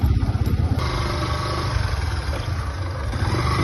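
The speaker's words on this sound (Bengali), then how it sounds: "বর্ষার সময় এই রাস্তা বাইক চলে কি করে?" A motorcycle engine putters on a rough rural road, a loud close low throb that stays steady throughout, with no voices.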